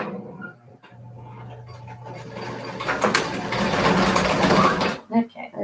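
A sewing machine runs a short burst of locking stitches to secure elastic, its close, rapid mechanical chatter rising and falling while a person talks over it.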